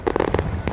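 Fireworks launched from three barges on a river pop and crackle in a quick, uneven burst of bangs heard from across the water, some louder and nearer, others softer.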